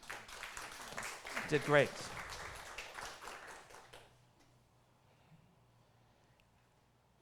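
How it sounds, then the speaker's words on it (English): Church service audience applause for about four seconds with a voice speaking over it, then the room falls quiet. "Why don't you applaud yourselves?"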